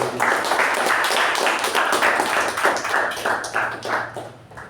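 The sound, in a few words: applause at Toastmasters meeting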